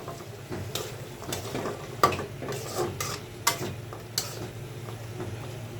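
Jackfruit seeds fry in a spiced masala pan for a prawn and stem greens dish, with steady low sizzling broken by several sharp scrapes and clinks of a spoon stirring against the pan, close by and with no talking.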